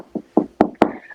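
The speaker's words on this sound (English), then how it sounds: "Knock on wood." Four sharp knocks on wood, spaced at an uneven, quickening rhythm, each a short hollow rap heard close and alone.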